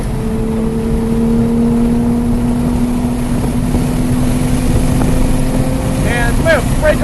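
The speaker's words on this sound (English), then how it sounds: "roll on that gas, full throttle" A race car at full throttle on the NJMP Lightning circuit: a loud, sustained engine drone that climbs steadily in pitch under heavy wind rush, with a brief voice near the end.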